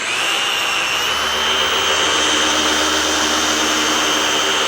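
Harbor Freight Hercules polisher spinning a pad with compound, a loud steady high-pitched whine and whir that runs continuously without pause, close up.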